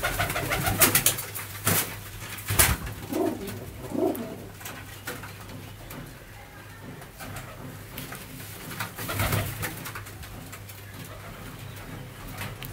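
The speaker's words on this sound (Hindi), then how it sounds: "ये ब्लड टैटी कबूतर है, बहुत अच्छे टैटी कबूतर हैं, नामी गिरामी कबूतर हैं" Flying pigeons coo softly in the background amid rustling and occasional clatter, with a steady low hum throughout.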